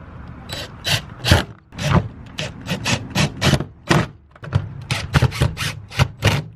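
Screws driven in by hand into the window regulator of a Mazda Miata, giving a close series of sharp ratcheting clicks in quick irregular bursts, loud and clear with no talking.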